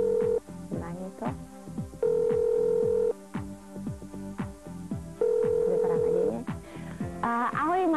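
A telephone call is dialed, with sustained steady tones broken by gaps and short electronic blips at a steady rhythm, close and clear, and a higher warbling tone near the end.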